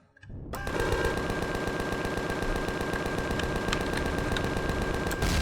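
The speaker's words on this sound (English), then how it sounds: "Right, well, we're shooting something." Turrets fire continuously in the Empyrion space game, a dense rapid mechanical rattle that starts abruptly and keeps a fast steady rhythm throughout, loud and close.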